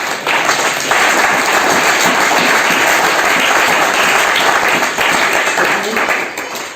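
A church congregation applauds loudly and continuously to acclaim Jesus, a dense wash of clapping close by with voices mixed in.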